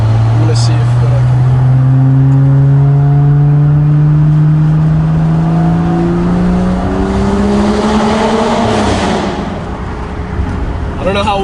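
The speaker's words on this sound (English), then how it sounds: "I'm gonna see how good we can get a pop in this tunnel here" A 2011 BMW 535i accelerates hard through a tunnel, its engine drone climbing steadily in pitch and echoing off the walls, then fading near the end as a voice speaks over it.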